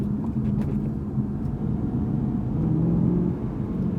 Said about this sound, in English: If I put it in sport mode now, already, you know, it's just drop downshift.